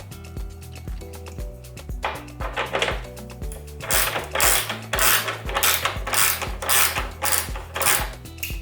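A tool works loose a small Phillips screw and a bolt on the front bumper of a Hyundai Genesis Coupe, giving close, repeated ratcheting clicks that grow louder and quicken into a rhythmic series.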